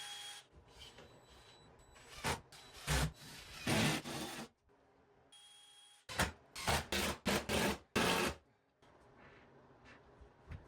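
A handsaw cuts wooden blocks from 2x4 lumber in several close, rasping bursts of strokes, separated by short quiet gaps, with no talking.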